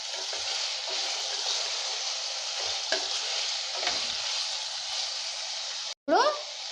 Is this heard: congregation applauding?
no